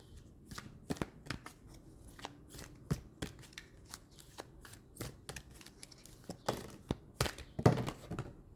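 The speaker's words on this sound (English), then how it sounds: "I'm going to pull some tarot as well" Tarot cards are shuffled by hand in quick, close riffles and slaps, with irregular bursts of crisp flicks and soft thuds and no talking.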